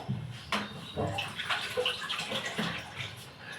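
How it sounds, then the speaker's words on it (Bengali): A tomato is rinsed under running water, a steady close splash of tap flow with soft shifting gurgles and hand movements throughout, no talking. "টমেটোটাকে ধুতে হবে।"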